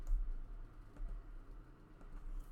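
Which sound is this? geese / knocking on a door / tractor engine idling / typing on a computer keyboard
typing on a computer keyboard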